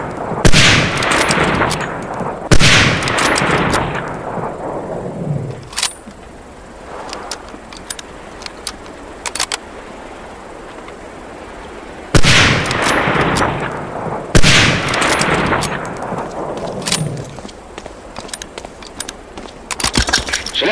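Springfield 03 sniper rifle shots in the World War II shooter Medal of Honor: Allied Assault, sharp loud cracks spaced a few seconds apart, each trailing a long rolling echo, with faint clinks and rattles between.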